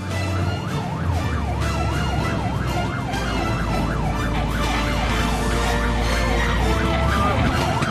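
A loud wailing fire engine siren sweeps up and down steadily over rumbling engine noise, close and continuous throughout, as a fleet of fire engines responds to a large fire.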